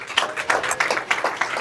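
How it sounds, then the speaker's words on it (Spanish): A short round of applause at a church service, uneven hand claps from a modest group, moderately loud and fading in and out with no speech over it. "Otro aplauso al Señor."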